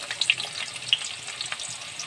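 Onions crackle and sizzle steadily in hot oil for aloo bharta, with a few sharper pops over the broadband frying hiss, close and fairly loud with no talk.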